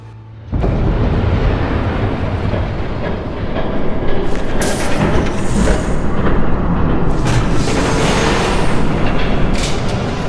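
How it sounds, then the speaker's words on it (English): A train rushes past in Batman: The Telltale Series, a loud, continuous rumble and clatter that starts abruptly and fills the whole stretch with no talk. "There's a train coming."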